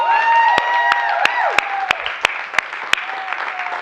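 A church congregation applauds at a Sunday celebration service, steady clapping from a crowd with a few sharp, louder claps standing out as the applause gradually thins.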